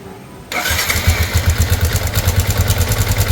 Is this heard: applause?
no